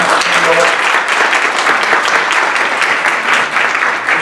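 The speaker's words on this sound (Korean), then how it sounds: "발표해주신 산하방팀 박수 부탁드릴게요." Audience applause after a team's pitch at a Startup Weekend final, dense sustained clapping from a crowd filling the whole stretch at steady loudness.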